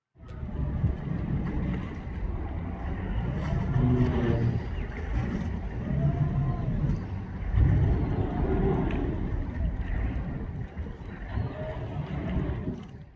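A new ferry runs on the Brisbane River with a low, rumbling engine and wash and wind noise underneath, steady for the whole stretch, while a voice talks faintly over it.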